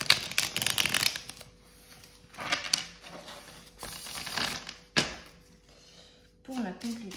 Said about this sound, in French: on va tirer une carte de l'oracle du soleil